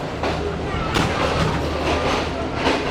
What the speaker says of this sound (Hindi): ट्रेन तो अच्छी स्पीड में आ गई है भाई